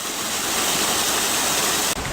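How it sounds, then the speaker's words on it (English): A small waterfall beside a lake on top of Connors Pass in Ireland, a steady close rush of falling water filling the whole clip with broadband hiss and no voices. "Nice little waterfall."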